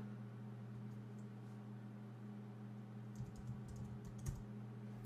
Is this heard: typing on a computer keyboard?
yes